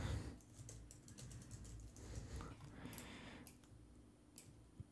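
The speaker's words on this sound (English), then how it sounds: "Let's type out my name." Keys clatter on a computer keyboard in a quiet run of close typing, with a louder burst at the start and lighter taps trailing off, faint and unaccompanied by talk.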